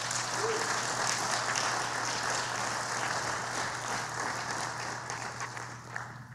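A church audience applauds to welcome a pastor to the stage, with steady, dense clapping that holds for several seconds and thins slightly toward the end, heard from within the room.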